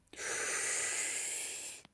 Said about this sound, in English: Together, let us take 3 deep conscious breaths to begin. Breathing fully in.